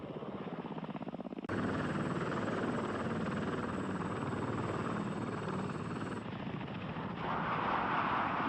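A Lockheed AH-56 Cheyenne attack helicopter flies with a loud, steady rotor and engine roar that begins abruptly after a quiet start and holds constant throughout, with no talk.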